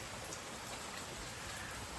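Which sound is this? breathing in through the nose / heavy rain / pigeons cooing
heavy rain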